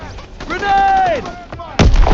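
A grenade blasts in a Call of Duty WWII battle, a sudden loud boom near the end after a soldier's shout and rising whistle-like tones.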